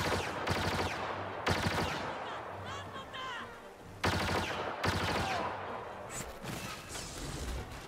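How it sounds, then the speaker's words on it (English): An SE-14C blaster pistol in Star Wars Battlefront firing in repeated bursts: sharp, loud clusters of rapid shots separated by brief pauses, with reverberant tails. "this weapon has a special 5-shot burst capable of killing an opponent in just one burst"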